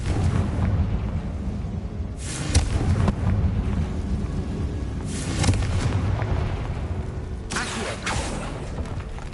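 A Confringo spell in Hogwarts Legacy sets off three loud booming blasts at even intervals, each rumbling out into a low roar over steady background game noise.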